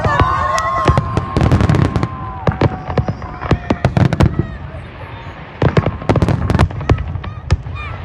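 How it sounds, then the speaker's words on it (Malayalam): New Year fireworks at the Sheikh Zayed Festival in Abu Dhabi crackle and boom in dense, rapid volleys of sharp bursts, loud and continuous, with crowd noise and whistling rockets underneath. "ഷെയ്ഖ് സയ്യിദ് ഫെസ്റ്റിവലിൽ നടക്കുന്ന 62 മിനിറ്റ് തുടർച്ചയായുള്ള വെടിക്കെട്ടും"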